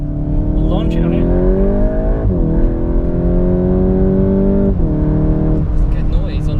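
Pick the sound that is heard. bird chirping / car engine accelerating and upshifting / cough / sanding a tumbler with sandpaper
car engine accelerating and upshifting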